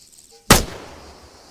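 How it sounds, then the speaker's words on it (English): A single loud rifle shot from a soldier firing downrange in Arma 3, a sharp crack with a short rolling echo after a quiet lead-in. "When you're ready, put some rounds down range."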